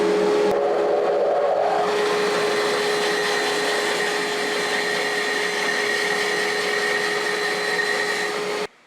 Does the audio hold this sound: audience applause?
no